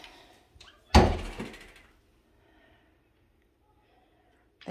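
A hollow, stained interior closet door in a house is opened, giving one sharp knock-like bang near the start followed by a brief rattling tail, then quiet with a faint bump at the end.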